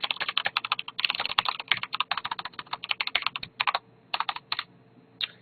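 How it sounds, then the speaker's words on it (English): Normal typing on a mechanical computer keyboard, with the keys bottoming out: close, crisp clicky keystrokes in quick uneven bursts, a few short pauses between runs, and no voices. "So that's just me typing normally."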